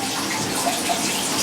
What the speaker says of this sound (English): we'll just kind of run some water through it like this.